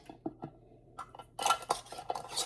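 Metal Superb canning lids clink and clatter as they are set onto glass jars of peaches, a series of light close taps and scrapes, sparse at first then busier.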